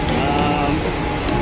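Loud, steady machine drone from a blower and other running equipment at a scaffolding installation site at a Toshiba project in Biñan, Laguna, a dense continuous roar with faint higher hums and no clear breaks.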